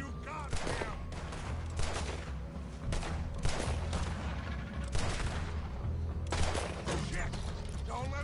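Rapid, sustained gunfire in Red Dead Redemption 2 crackles as overlapping shots in a loud fusillade, with a tense game score and distant voices underneath.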